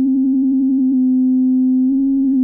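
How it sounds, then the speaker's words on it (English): An ARP Odyssey synthesizer's filter running on its own gives a steady, loud pure sine tone. It holds unbroken for over two seconds, with a faint pulsing flutter near the start and again near the end. "that's just the filter on its own. Perfect sine wave."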